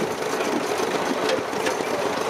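A vintage tractor engine running on only one cylinder at a steam and country rally, a steady uneven mechanical chug close by with no talk over it.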